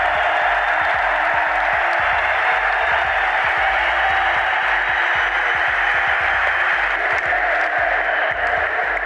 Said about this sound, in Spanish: Yo quiero que les dediquéis un aplauso irónico a todos esos que dicen que estamos divididos.